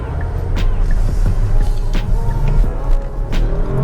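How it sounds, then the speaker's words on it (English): A Kia Stinger GT with all-wheel drive makes a U-turn on a busy canyon road. Its engine rumbles low and steady, with a few faint clicks and knocks on top. "We're gonna test this all-wheel drive system in this U-turn, this busy canyon road."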